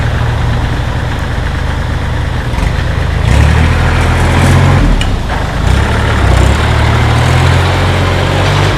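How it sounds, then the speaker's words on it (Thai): A used Kubota L3608SP tractor engine idles steadily up close, a loud, continuous low rumble that swells slightly for a few seconds midway before settling back. "รถคันนี้ก็สตาร์ทติดง่ายนะคะ"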